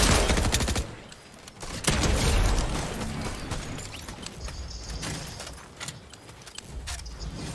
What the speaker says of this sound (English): There's one shooting over here somewhere.